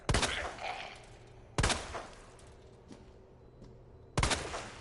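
Gunshots in the Resident Evil 2 Remake, fired at a zombie for a headshot: three sharp, loud reports spaced well apart, each fading into a low ambient hum between shots.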